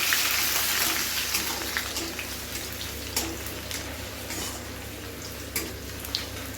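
Chopped garlic and ginger sizzle softly in hot mustard oil with a steady crackle, a few sharper pops and spatters, over a low background hum.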